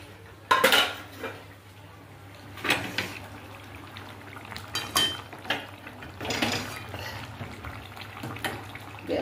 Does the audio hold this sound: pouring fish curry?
yes